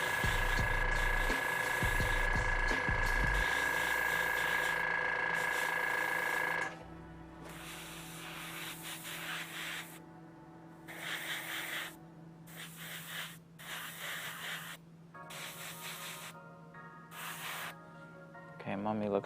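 An airbrush compressor hums steadily for about six and a half seconds while paint is sprayed onto a miniature, then shorter bursts of spray hiss follow with pauses between them.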